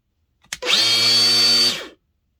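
Small electric power tool motor, freshly regreased: a click, then a smooth, steady whirring run for about a second before it spins down, alone and close.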